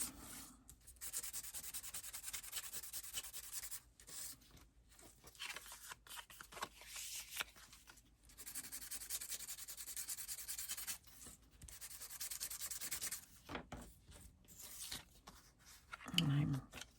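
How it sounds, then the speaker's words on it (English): Sandpaper is rubbed over the back of a paper journal page in quick, scratchy rasping strokes, close and fairly quiet, coming in long bursts separated by brief pauses, with a voice faintly present at times. "I'm going to sand the back of this a little bit to help it stick,"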